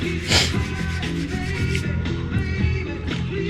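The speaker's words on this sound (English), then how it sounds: "And I'm sanding with 800 grit," Fine 800-grit sandpaper rubbing back and forth over painted metal on a bicycle fork in short strokes, a soft scratchy rasp repeating at close range.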